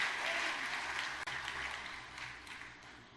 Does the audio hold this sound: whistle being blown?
no